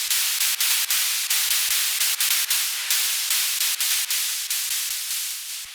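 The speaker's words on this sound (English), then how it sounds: "So the white noise layer on its own sounds like this." A white noise layer from a hardstyle track pulses in loud, sharp rhythmic bursts, each hissing swell decaying quickly before the next hit, alone and steady for several seconds.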